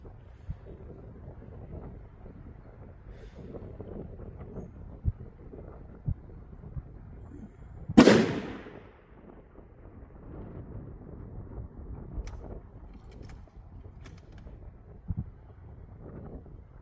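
Strong wind buffets the microphone as a continuous low rumble, with one sharp loud gust burst partway through.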